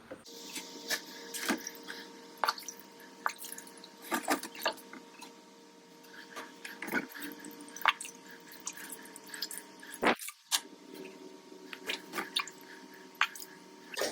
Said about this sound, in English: I just fill them up to a certain level so that I don't get water in any of the leaf joins or folds